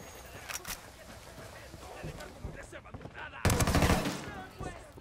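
Gunfire in the Ghost Recon Wildlands video game: scattered sharp shots early, then a loud burst of firing midway that rings out and fades, with game sounds throughout.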